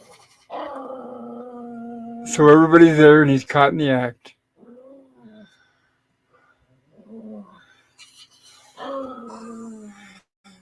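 Pet dogs indoors let out a loud, wavering groaning growl for a couple of seconds, then quieter grumbles. Talk from a television runs before and after.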